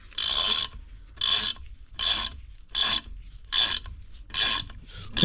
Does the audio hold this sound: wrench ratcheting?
yes